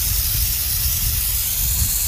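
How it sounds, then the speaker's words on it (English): A loud, continuous hiss of an aerosol can of rust inhibitor and neutralizer sprayed directly onto a lubricated surface at close range, steady and unbroken throughout. "So I'll spray it directly on it"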